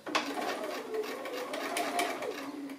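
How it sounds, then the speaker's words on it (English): A sewing machine stitches a quilt block along a diagonal line from point to point, running as a continuous, even whirring hum close by with no talk over it. "I'm just going to sew on that diagonal line from point to point"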